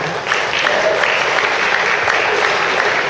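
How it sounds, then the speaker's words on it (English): Dense audience applause at a business meeting, a wash of clapping that starts abruptly and carries on at full strength throughout. "You should give yourselves an applause because you all are doing the system."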